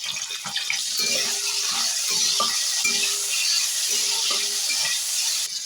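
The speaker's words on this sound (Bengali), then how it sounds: "এরপরে দিয়ে দিচ্ছি শিমগুলো একটু ভেজে নিচ্ছি।" Flat beans frying in hot oil in a pan, with a steady broadband sizzle throughout and intermittent clinks of a utensil stirring against the pan, fairly loud and close, with no talking.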